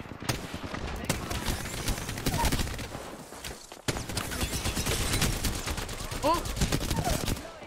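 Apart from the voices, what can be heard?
gunfire in video game Apex Legends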